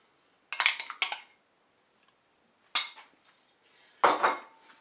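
Crème fraîche and pork roast ingredients are stirred in a pot, with three or four separate bursts of metallic scraping and clinking from the utensil against the pot, and quiet gaps between them.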